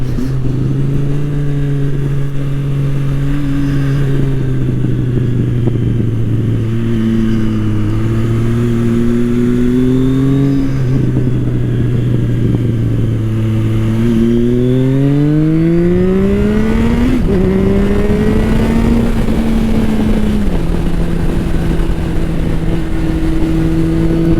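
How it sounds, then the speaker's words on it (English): A Triumph Sport 660 motorcycle engine on a race track, loud and steady, its pitch rising and dropping through several gear changes and climbing hard to the rev limiter before easing off, with no voices over it. "hit the rev limiter for the first time ever"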